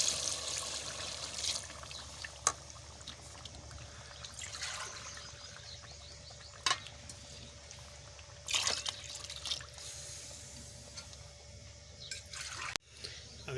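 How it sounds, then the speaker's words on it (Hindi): Water poured into a pot of chicken yakhni pulao with vegetables, chillies and salt in a home kitchen: quiet trickling and dripping with a few sharper splashes against a faint background. "अभी डालेंगे पानी।"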